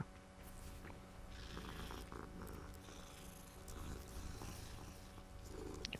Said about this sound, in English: Oh, it's another cat.